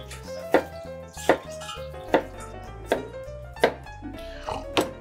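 A knife slicing zucchini into rounds about five millimetres thick: six crisp, evenly spaced chops land on a board at a steady pace, close and clear over a low background hum.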